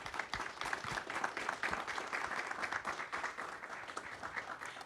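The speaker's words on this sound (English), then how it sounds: "I would like for everybody to give them a round of applause" An audience claps steadily for several seconds, a dense, somewhat distant patter of many hands with a little voice mixed in.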